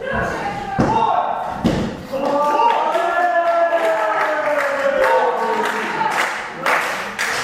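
A back suplex slams a wrestler onto the ring, loud sharp thuds standing out from a noisy crowd, with commentators talking over the action throughout.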